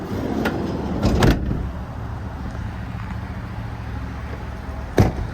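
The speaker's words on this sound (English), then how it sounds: "Single sliding door." A sliding side door on a 2015 Ford Transit 150 extended low-roof cargo van rolls and thuds shut early on, followed by quiet idle ambience and one more short clunk near the end.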